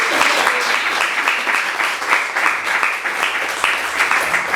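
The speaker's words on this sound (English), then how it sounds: "Can we have another round of applause?" A crowd applauds continuously, dense clapping that holds at an even, lively level throughout.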